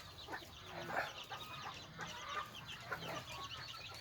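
Caged red junglefowl, about three months old, cluck and chatter softly in short scattered calls, faint and fairly close, with a light hiss of background noise and no speech.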